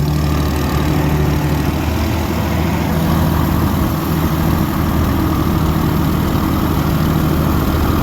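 A 1937 Oliver Hart-Parr 70 tractor engine runs steadily and loudly close by, a continuous low rumble with no pauses and no talking over it.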